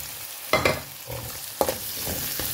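Vegetables sauté in a hot pan, a steady loud sizzle broken by a few scraping stirs of a spatula, close up and without speech.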